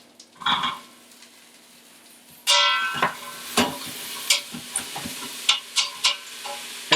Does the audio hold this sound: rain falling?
no